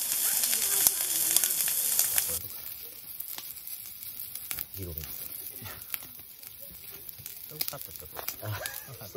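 Meat sears on a camp grill at a wooded Kyoto campground in autumn. A loud, bright sizzle fills the first couple of seconds, then settles into a quieter crackling fry with occasional pops and faint voices nearby.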